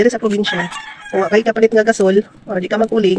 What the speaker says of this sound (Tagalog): Pasensya na sa manok ang pula guys, sige pugaok.